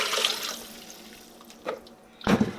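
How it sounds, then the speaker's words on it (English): Coconut water drains from a freshly opened coconut, a soft liquid splash and trickle with watery noise at the start and a louder pour or splatter near the end, close by with no talk. "once it's open, you're gonna drain the water"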